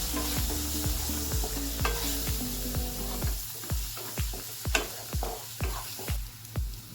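Two kinds of garam masala being stirred in a frying pan, a loud close sizzle at first, then a regular series of sharp scraping strokes of the spoon against the pan, roughly two per second.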